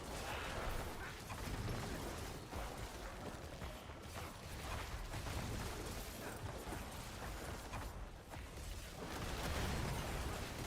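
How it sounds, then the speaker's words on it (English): Rapid, overlapping explosions and bursts from the Diablo 4 video game, with a dense, steady barrage of booms and crackles filling the whole stretch, loud and continuous without speech. "that's a lot of fucking explosions"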